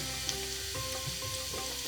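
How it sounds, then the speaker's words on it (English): Meat for saag gosht (spinach and meat curry) sizzles steadily in a hot pan, a dense crackling fry heard up close with no talking. "Now you can see start is frying, the process."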